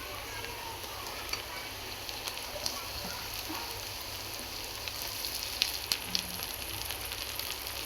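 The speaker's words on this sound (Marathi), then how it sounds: "कांदा छान लाल होईपर्यंत तळून घ्यायचा" Onion frying in oil in a pan produces a steady, hissing sizzle with faint crackles and a few light clicks of a utensil, close and even throughout.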